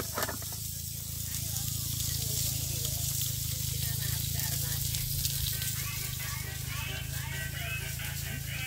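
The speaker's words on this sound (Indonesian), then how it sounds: "Ini lagi masak ikan." Fish, a tilapia, cooking in a pan gives a steady, loud sizzling hiss that holds unbroken throughout, with a low hum underneath and faint background voices.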